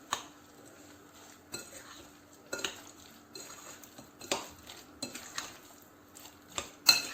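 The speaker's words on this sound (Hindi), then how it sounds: "इन सबको अच्छी तरह से मिक्स करेंगे" A utensil stirs flour and breadcrumbs together in a bowl for a chicken coating, with soft scraping and occasional light clinks against the dish, fairly quiet and unhurried.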